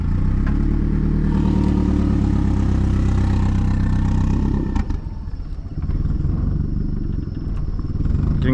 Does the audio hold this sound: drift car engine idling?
yes